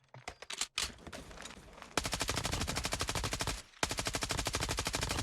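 Rapid automatic fire from the SO-14 rifle in the shooter game COD Mobile, starting with a few scattered shots and then two long, dense bursts of loud rhythmic gunfire separated by a brief pause, with no talking.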